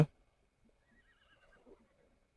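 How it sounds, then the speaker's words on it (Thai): A zebra in ARK Mobile gives a faint, brief neigh after a sharp opening click. "ในดันก็มีม้าลายนะครับผม อ่า มีม้าลายด้วย"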